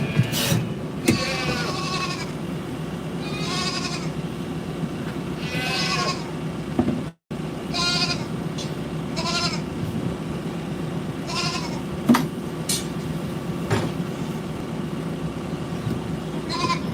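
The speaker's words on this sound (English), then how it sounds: "if you can hear a goat sounds not very happy, it is Kevin and Katie, Kinder's babies" Unhappy young goats in a pen on a farm bleat repeatedly, giving a string of wavering, nasal cries spaced a second or two apart against a steady low background hum, with a brief dropout near the middle.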